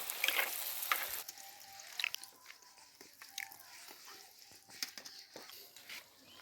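Malpua batter frying in hot oil, a soft continuous sizzle with scattered crackles and small clicks of a utensil, moderately quiet and close, with no talk.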